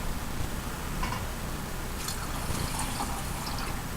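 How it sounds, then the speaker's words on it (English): Water pours into a pot of brown rice being prepared for cooking, a steady liquid fill with faint drips and trickles over a noisy kitchen background. "So I have to put a little bit more water."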